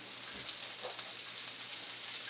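A tablespoon of butter sizzles in a preheated pan with a constant bright hiss and fine crackling, close and fairly loud, with no talk.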